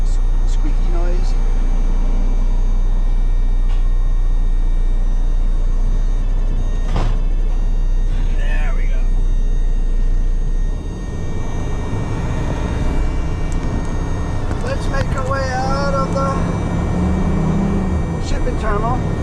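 A big truck's engine drones steadily from inside the cab as it drives, a continuous low rumble with some higher squeaks and rattles, while a voice talks over it.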